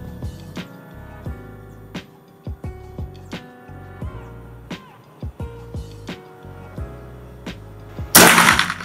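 Repeated sharp shots from a PCP Predator folding-stock air rifle at target practice, a dozen crisp cracks spaced irregularly about half a second apart, followed by a burst of loud hiss near the end.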